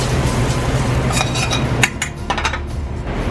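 Sausage goes into a hot pan with shallots and garlic slow-cooked in olive oil, giving a steady close sizzle with a few clinks of pan and utensil along the way.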